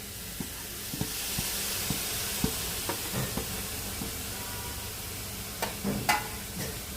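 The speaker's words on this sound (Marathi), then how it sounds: "आता आपल्याला कोथिंबीर घालून परतवून घ्यायची आहे" Coriander leaves with turmeric sautéing in a hot pan, a steady sizzle with scattered stirring clicks and scrapes throughout, fairly close and without speech.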